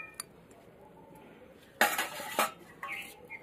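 A metal lid is set on a cooking pot of chicken and potato curry, giving two loud clattering clanks close by, with a softer knock just after, over quiet kitchen background.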